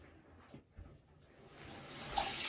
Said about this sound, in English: Fill that up with more water, Blake.